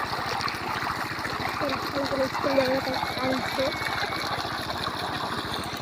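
A steady stream of pumped water runs onto chilli plants with a rhythmic engine chug underneath, continuous and close, with a voice talking briefly over it.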